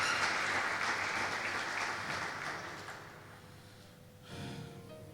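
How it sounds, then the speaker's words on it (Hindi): Church congregation applauding, a fairly quiet wash of clapping that fades over several seconds, then a brief swell of noise near the end. "जोरदार तालियां खुदावंद के लिए"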